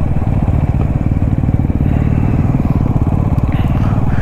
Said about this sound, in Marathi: आपण बाईक असून एवढी सांभाळून चालवतोय